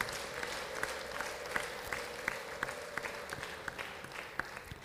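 Wedding guests clap together in a steady, moderately loud stretch of applause at a ceremony, with brief sharper claps standing out over the crowd; a faint murmur sits underneath.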